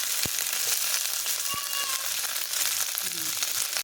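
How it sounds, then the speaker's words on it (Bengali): Okra sizzles and fries in hot oil in a home kitchen pan, a steady crackling hiss with occasional stirring clinks close by. "ভেন্ডিগুলো হালকা ভেজে নেব।"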